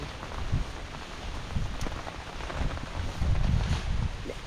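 Rain falls steadily outdoors during wet weather while a trench is dug for taro, a broadband patter with scattered low thumps of drops striking nearby surfaces.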